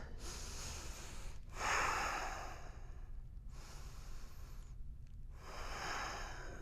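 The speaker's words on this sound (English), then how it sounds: "Take 3 deep breaths in and out." Slow deep breaths in and out during a supine yoga twist, three long airy cycles separated by brief pauses, close and fairly soft with no talking.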